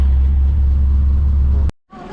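A car engine fitted with a Holley double pumper carburettor runs with a loud, steady low rumble close by, then cuts off abruptly, followed by a short quieter stretch of different noise.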